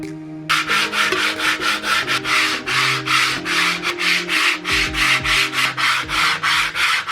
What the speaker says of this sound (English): that's the thing that I can then just sand down and make super smooth